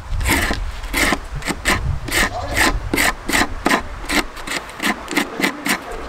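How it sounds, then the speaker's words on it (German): A membrane for a homemade seagull call whistle is scraped in a quick series of about fifteen close, rasping strokes, each a bright scratchy burst in steady rhythm. "wir schneiden das zurecht und schaben das erstmal so ein bisschen ab, damit das quasi später auch eine gute Membran werden kann"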